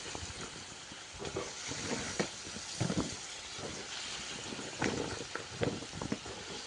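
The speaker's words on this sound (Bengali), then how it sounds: "টুকরো করে সবগুলো লাউ দিয়ে ভালো করে নেড়ে চেড়ে নিচ্ছি।" Chunks of bottle gourd sizzle steadily in hot oil and spice paste for a Bengali prawn dish, with scraping, clattering stirring strokes breaking through the continuous frying hiss at close range.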